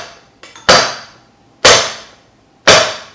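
Pan of pumpkin bread batter banged on a counter to knock out air: three sharp, loud metallic thuds spaced about a second apart, each ringing briefly, preceded by a faint rattle.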